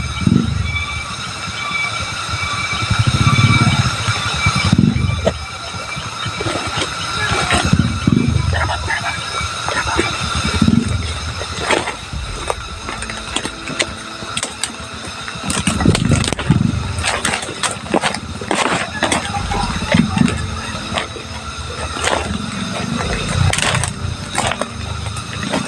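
Motorcycle engines rumble and rev in repeated swells, passing by amid busy outdoor street noise.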